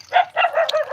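Small dogs yap rapidly at close range, several high, overlapping barks in a quick run.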